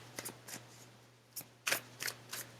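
Tarot cards riffle and slide from a deck in a few short, crisp papery bursts, close and quiet, with brief pauses between them.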